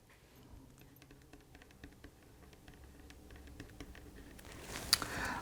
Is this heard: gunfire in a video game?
no